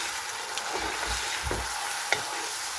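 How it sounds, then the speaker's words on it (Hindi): Meat browning in a pot for chicken chana pulao, a steady sizzle with a few low stirring scrapes and a small clack, no voices. "तो भून लेंगे इधर हम गोश्त को।"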